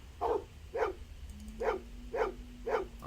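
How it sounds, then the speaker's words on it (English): Maggie, a dog in the Blade Runner video game, barks five times in a steady, evenly spaced series. The barks are moderately close over a low background hum, with a faint steady tone beneath them. "And his dog Maggie"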